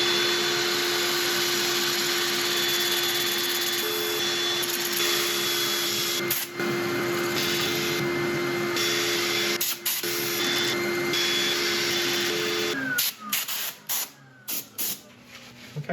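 A turned wood burl is sanded on a spinning lathe, giving a steady whirring hiss with a constant motor hum. Near the end come several short bursts and pauses. No one speaks.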